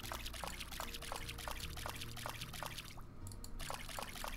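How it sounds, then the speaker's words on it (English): Crops being watered in a farming roguelike game, a run of short, evenly spaced pouring splashes repeating steadily over a soft musical background, with a brief gap before the pattern resumes. "Time to water all the things."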